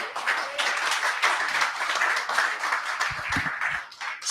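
A church congregation claps for Jesus in a steady, dense burst of applause lasting several seconds, with a faint voice briefly audible near the end.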